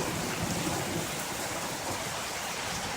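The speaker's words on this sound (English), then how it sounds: "Storming again." Steady, dense rain pours down outdoors during a thunderstorm, a continuous hiss with low rumbling beneath it, holding at an even level throughout with no voices.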